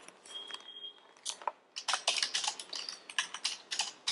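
Rapid clicking of keys on a computer keyboard, close and fairly quiet, in irregular bursts while a name for an iPod Shuffle is entered, with a brief electronic tone near the start.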